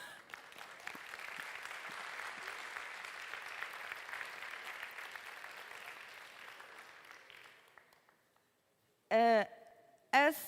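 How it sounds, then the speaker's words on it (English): Audience applause at a European Left Party elections kick-off event, a steady wash of clapping for about eight seconds before fading out, followed by brief bursts of a speaker's voice close to the microphone. "Now you can make some applause."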